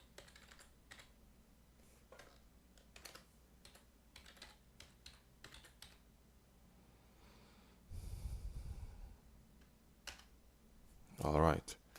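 Computer keyboard typing as an email address is entered, quiet rapid key clicks scattered across the clip with a breathy snort or exhale partway and another near the end.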